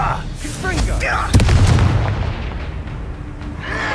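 A disarming spell is cast during a duel in the Hogwarts Legacy video game, a sharp magical blast with a booming impact that rings out under shouted combat voices.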